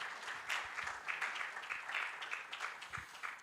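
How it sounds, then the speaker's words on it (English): Audience at a Digital Assets Summit Africa conference session clapping steadily in a sustained round of applause, fairly distant and even, with no speech. "Another round of applause for Dory."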